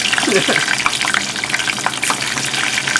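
Tater tots fry outdoors over a wood fire on a plywood table setup, with grease crackling and spattering in loud, irregular pops over a constant close sizzle, a voice briefly audible underneath.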